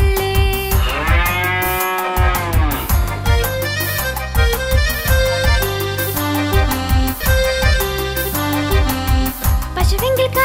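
Over loud, bouncy children's song music with a steady beat, one long, drawn-out cartoon-style cow moo rises and falls near the start.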